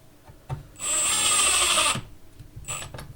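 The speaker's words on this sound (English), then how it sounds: "Now I'm just being careful with this drill." Power drill driving deck screws into wood: a sustained high whine of about a second after a brief start, then a short second burst, loud and close.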